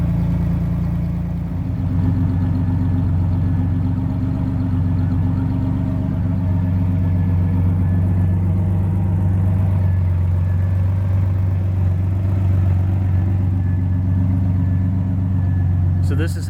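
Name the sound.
V6 car engine idling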